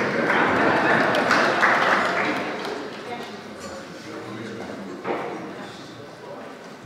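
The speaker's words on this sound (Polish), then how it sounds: "Wielkie brawa" A concert audience at a carnival evening concert applauds. Dense clapping is fairly loud at first, then thins and fades after about three seconds, with voices heard around it.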